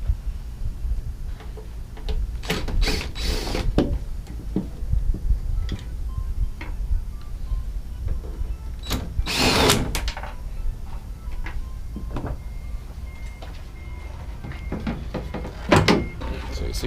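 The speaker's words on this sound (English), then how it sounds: "you'll pull the light out from these clips" A 2013–2018 Ram 1500 tail light is worked loose from its clips, giving a series of plastic clicks and snaps, with one louder crunchy pop of the housing releasing, close and without speech.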